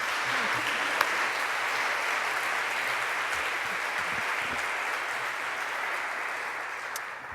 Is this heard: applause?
yes